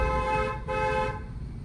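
A car horn gives two close, loud blasts during a driving lesson, a longer one and then a shorter one, over a low engine hum.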